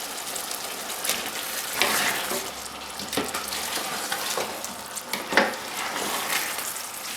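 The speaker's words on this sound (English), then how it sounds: "I'm just adding the shanks to it, and we need to lightly brown them and saute them" Lamb shanks being lightly browned in a blended sauce for nihari sizzle and crackle steadily at moderate level, with occasional louder spatters and stirring clatter.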